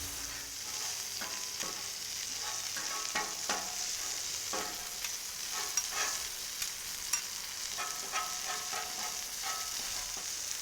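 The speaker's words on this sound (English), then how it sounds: "Forget to get the sausage going and let it cook up a little bit." Sausage sizzles on a Cuisinart 360 XL griddle, a steady close frying hiss broken by scattered sharp pops and spatters, with no talk.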